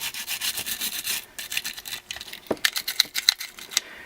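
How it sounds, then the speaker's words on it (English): Brush scrubbing inside a Glock pistol frame, down into the magazine well, giving quick, close, raspy bristle strokes in a steady back-and-forth rhythm that turns into sharper, separate scrapes toward the end. "You can clean down into your mag well, just getting your brush down there"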